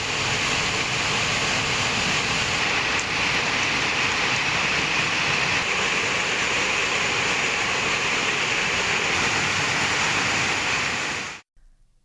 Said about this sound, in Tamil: தேனி நகர் மற்றும் சுற்றுவட்டார பகுதிகளில் 2வது நாளாக கனமழை பெய்தது